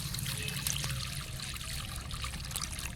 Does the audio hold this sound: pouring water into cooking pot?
yes